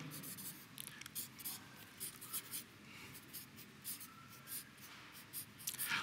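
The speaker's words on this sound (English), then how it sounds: "I hope you can see my writing." Pen scratching across a writing surface in a series of short strokes, close and fairly quiet, with a low steady room hum underneath and no talking.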